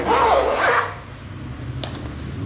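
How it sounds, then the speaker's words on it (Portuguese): Zipper on a handmade fabric school pencil case being pulled shut, a quick rasping zip up close followed by a faint rustle and a small click. "E aqui eu vou fechar o zíper."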